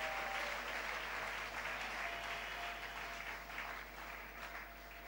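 A church congregation applauding and cheering for the Lord at a French-language service, steady sustained clapping from a full room that tapers slightly toward the end.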